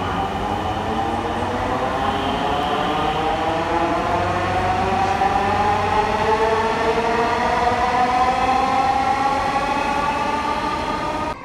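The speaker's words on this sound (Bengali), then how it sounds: "চলাচল করছে মেট্রো ট্রেন" Dhaka metro rail train running, a loud continuous electric rumble with rising motor whine tones held steady throughout, heard close with no talk.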